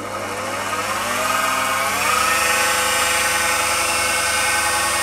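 A mini milling machine spins on its belt drive at low speed with the small pulley driving the large one, giving a steady mechanical whine with layered harmonics that rise slightly as it settles into a continuous run, no voices.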